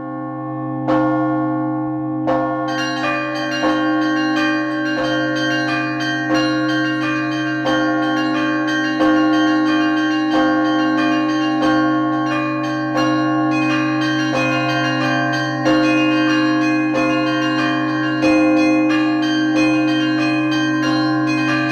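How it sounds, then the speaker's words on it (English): Orchestral tubular bells, or chimes, struck in a steady, slow sequence of bright, sustained metallic tones that ring over one another like church bells, loud and close with no voices. "The tubular bells were meant to imitate the sound of church bells,"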